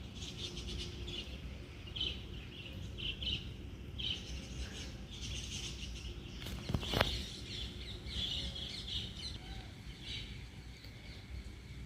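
Birds chirp outdoors as rain approaches, with faint, scattered high calls and short bursts of tweets over a low, steady background.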